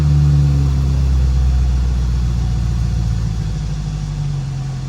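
A Mercedes-Benz AMG SLK 55 V8 engine roars loudly just after startup, holding a deep, steady high idle with a strong low throb that eases slightly toward the end.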